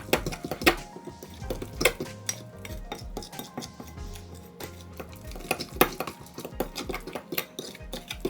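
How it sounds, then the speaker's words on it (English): Banana fritter batter made with flour is stirred in a bowl, with a steady run of close scraping and clinking utensil strokes in an irregular rhythm and no talking. "Now you want to keep stirring"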